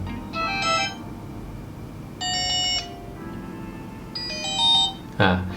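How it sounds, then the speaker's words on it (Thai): A GW33 smartwatch alarm ringtone plays in three separate melodic bursts of bright beeping tones, with a short clatter at the end and quiet background noise between. "เสียงกลิ่งเนี่ยก็จะคล้ายๆเสียงที่เป็นเสียงลิงโทนนะครับ"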